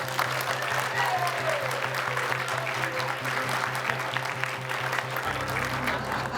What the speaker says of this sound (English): Let's hear a round of applause for those people.